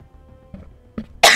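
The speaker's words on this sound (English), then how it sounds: "I just go cough my lungs out for a moment" Someone coughs close to the microphone, a few short throaty bursts with brief pauses between, then a loud harsh cough at the end.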